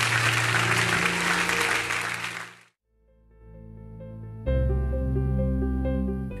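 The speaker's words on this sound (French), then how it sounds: "sous nos acclamations pour le Seigneur." Church congregation at a thanksgiving service applauding and cheering for the Lord, a loud full burst of clapping that drops away, then organ and band music swells in and plays on.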